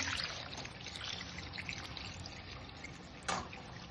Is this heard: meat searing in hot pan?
no